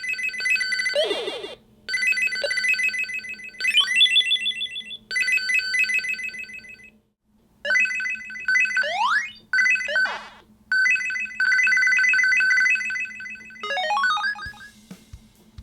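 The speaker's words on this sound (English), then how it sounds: "Now let's compare sound with the Sega Game Gear." Bright chiptune-style Sega Game Gear game music with beeping square-wave melodies and quick arpeggios, playing in bursts with short gaps between phrases.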